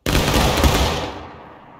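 A musket volley fired on command in War of Rights: one loud, sharp crash of many muskets going off almost together, followed by a decaying echo that fades over about a second.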